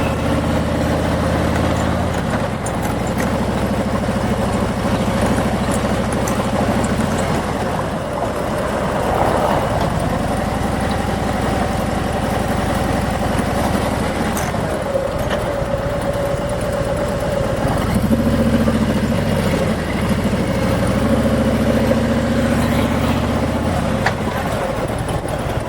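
Steady car engine drone heard from inside a vehicle driving around an Omaha neighborhood, a continuous mid-level hum with slight shifts in pitch as it moves, with no talking.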